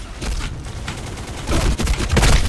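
Gunfire and explosions in the shooter game Black Squad, including a grenade blast: a loud, dense barrage of shots and booms with no break, swelling louder toward the end.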